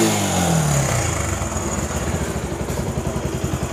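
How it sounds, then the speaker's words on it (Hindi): A Bajaj Pulsar 150 motorcycle engine catches on the electric self-starter, a short churn and then a steady, close idle with an even, pulsing putter. "देख पा रहे हैं बाइक स्टार्ट हो गई"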